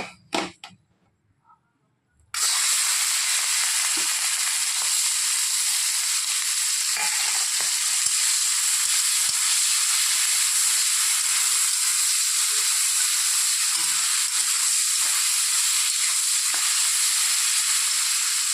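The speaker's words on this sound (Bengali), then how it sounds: "চিংড়ি মাছটা হালকা করে ভেজে নেব" Shrimp hit hot mustard oil in a pan after a few quiet knocks, setting off a loud, steady, close-up sizzle that hisses on without a break.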